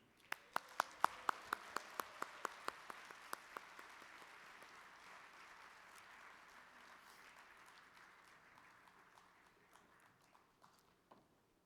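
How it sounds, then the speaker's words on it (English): Applause fills a conference closing ceremony for a program team, a steady wash of clapping at moderate distance that swells early, with a few sharp nearby claps standing out in the first seconds, then slowly thins and fades out. "A round of applause for Pradeep Anand and the program team"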